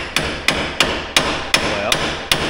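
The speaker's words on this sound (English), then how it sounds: "so I got you a claw hammer" A claw hammer strikes seven sharp, evenly spaced blows, loud and close, with no talk between the hits.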